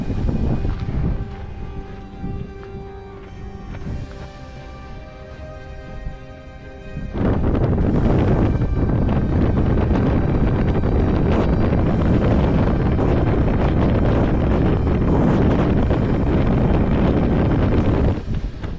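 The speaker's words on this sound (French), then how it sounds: "là le vent est glacial" Icy wind roars across the summit of Pic de Nore, buffeting the microphone in a loud, continuous rumble that surges sharply stronger partway through and stays intense.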